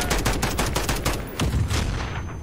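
Sustained rapid automatic gunfire from the Call of Duty Modern Warfare video game, loud and dense with overlapping bursts and a heavier thump midway, no voices.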